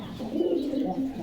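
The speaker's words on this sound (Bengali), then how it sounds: "এটা জিরা গলা কবুতর" A jira gola pigeon coos close by, a soft low rolling call that runs through the short moment without a break.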